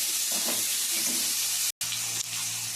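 Long-cut potatoes frying in oil, a continuous close sizzle with a few soft stirring scrapes, briefly cut by a short dropout before the hiss resumes.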